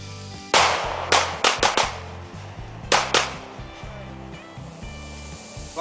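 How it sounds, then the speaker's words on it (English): Pistol shots crack sharply and close outdoors in a shooting drill, fired in quick pairs and short bursts with gaps between, loud against faint background noise. "Let's go ahead and finish out this magazine on 2-round presses."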